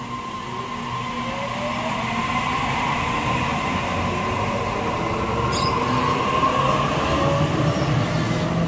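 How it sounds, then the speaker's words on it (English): Sydney Trains set A63 pulls away from platform 2 at Asquith station, a steady rising rumble of motors and wheels with faint squealing tones, building gradually as it departs. "So our set A63 is now departing platform number 2 for our service."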